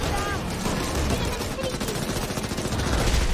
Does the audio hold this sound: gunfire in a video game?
yes